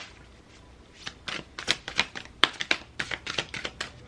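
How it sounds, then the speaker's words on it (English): A deck of tarot cards is shuffled by hand in a series of quick, crisp riffling snaps and taps, close and fairly quiet, with irregular bursts and no talk. "This deck is always like harder for me to shuffle."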